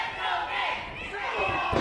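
A wrestling crowd roars and chants for Nick Zander during his match against Bret the Threat, a dense, sustained wall of cheering voices that stays loud from start to finish.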